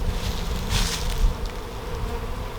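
Honeybees buzz steadily around an opened hive during a spring hive inspection, a dense continuous hum with a brief louder rush partway through, close and fairly loud, with no talking.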